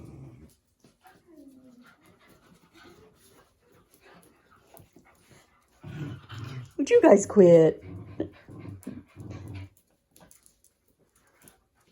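Puppies and older dogs whimpering and yipping during rough play, with growls and panting, while a person speaks over them midway.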